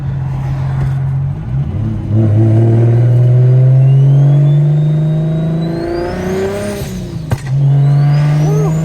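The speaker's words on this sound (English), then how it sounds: "these tires are already spinning" Single turbo car engine droning and rising steadily as the tires spin, a loud continuous close-up roar with climbing whine and a brief dip before revving again, heard from inside.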